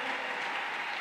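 A church congregation applauding during a French-language worship service, a dense, even wash of clapping heard alone for a brief moment at moderate distance.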